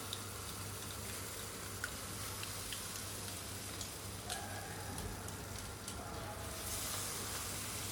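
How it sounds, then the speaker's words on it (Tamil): Ground ginger chutney sautéing in a pan, a soft, steady sizzle with scattered faint spits and pops, close but quiet, with a low hum underneath. "நம்ம அரைச்சி வச்சுருக்க சட்னியை ஊற்றி வதக்கிடலாம்"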